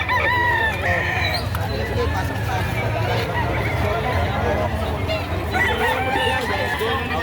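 A Gilmore Sweater bloodline rooster crows at a busy Batangas poultry market, with other chickens clucking and crowing around it and a babble of people talking nearby.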